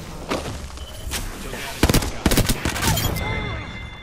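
Gunfire in the Apex Legends video game: a rapid cluster of sharp automatic shots over a steady background of game noise, with a quieter shot or two before and a lingering rumble after.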